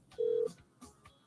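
Phone call placed to Miz, a single short steady dial tone beep followed by faint background sounds, close and clear.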